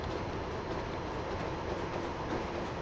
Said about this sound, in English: It really is quite a slow train, this one, isn't it?